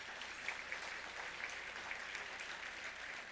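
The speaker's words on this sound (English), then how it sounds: "Let's give the BE Modern Men a round of applause." Steady, dense audience applause at a conference, many hands clapping evenly throughout at a moderate, slightly distant level with no voices over it.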